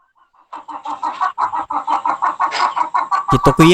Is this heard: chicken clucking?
yes